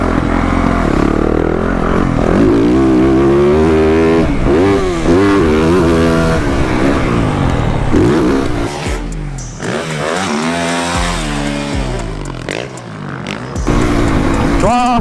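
A 2023 Yamaha YZ450F motorcycle engine revs hard and close, its pitch climbing and dropping in repeated throttle blips over a continuous loud roar, with a brief dip midway.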